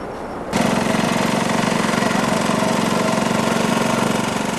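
A well drilling rig's heavy engine kicks in abruptly and keeps running loud and close, with a steady rhythmic knocking throb.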